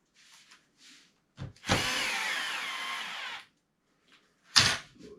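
A power screwdriver drives screws into the plastic chassis of a Team Magic K Factory RC car, one close buzzing run of about two seconds between faint handling clicks and a short knock.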